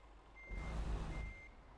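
A truck in Euro Truck Simulator 2 backs up with two evenly spaced electronic reversing beeps over a deep engine rumble that swells briefly between them.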